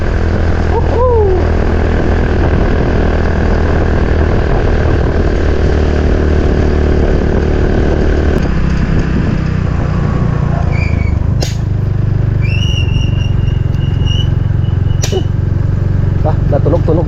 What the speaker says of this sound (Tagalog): Natunog-tunog din tambutso ni Paring Kanoy ah.